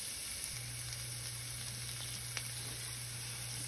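Onions sizzle quietly in a Dutch oven and are stirred, giving a soft, even frying hiss with a low steady hum underneath and occasional faint scrapes.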